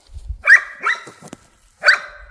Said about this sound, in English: Dang dog.